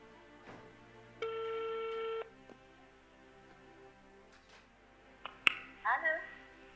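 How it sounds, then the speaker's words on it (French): A telephone rings out once for about a second as a call is placed, a steady electronic ring tone standing clear of the quiet room, followed by faint clicks and a brief burst of line chirps. "On va appeler cette personne."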